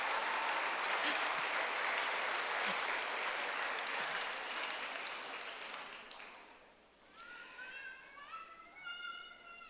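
An audience applauds at the World Meeting of Families 2018 before Cardinal Luis Antonio Tagle's presentation: dense, sustained clapping that slowly fades out, leaving a voice and faint murmurs.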